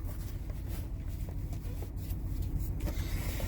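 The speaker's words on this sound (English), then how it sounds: "So let's go ahead and put this baby in drive, and we're gonna take it for a ride." A lifted 1998 Chevrolet Tahoe 4x4 with a Jasper engine and 4.56 gears, running as it is put in drive and pulls away, a low steady engine rumble with faint clicks and cabin rattles, no talking.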